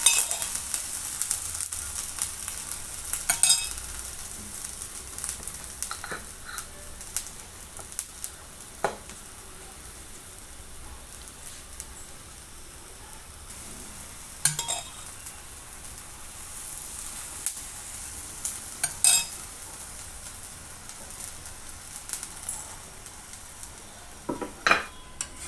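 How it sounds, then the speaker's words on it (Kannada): Aloo paratha frying in oil on a hot tawa, giving a steady soft sizzle with occasional crackles and scraping clicks from a spatula, fairly quiet and close, with no talking. "ಇದಕ್ಕೀಗ ಆಲೂ ಪರಾಟ ಲಟ್ಟಿಸ್ಕೊಂಡು ಇಟ್ಟಂಥದ್ದು ಹಾಕೋಣಂತೆ. ಒಂಚೂರು ಮೇಲಿಂದ ಎಣ್ಣೆ ಹಾಕೋಣಂತೆ."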